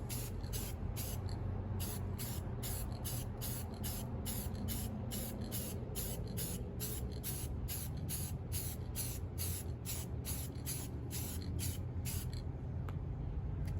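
Rapid, evenly spaced bursts of an aerosol spray can coat restored TRX450 ATV A-arms outdoors in Arizona, about two dozen short hissing pulses in a steady rhythm over a low ambient rumble, close and continuous, then stopping.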